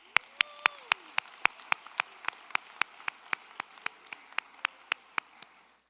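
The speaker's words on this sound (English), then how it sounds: "Can you give him a round of applause, please?" Slow, evenly spaced claps ring out at a high school graduation ceremony, a sharp distinct strike roughly every quarter second, fairly close and gradually softening, with a brief faint tonal sound early on and no talking.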